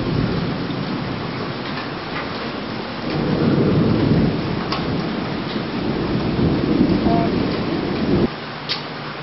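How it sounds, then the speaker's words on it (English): Continuous rain pours down with a deep rumbling swell in the middle, and a few sharp taps stand out before it suddenly eases near the end. "Looks like it's raining, not that hard right now."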